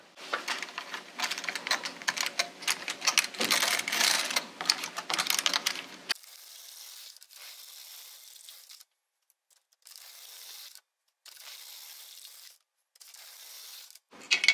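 An LK150 knitting machine carriage sliding across the needle bed, a dense rattling clatter at first, then a lighter repeated swishing pass broken by short pauses between rows, with no talk.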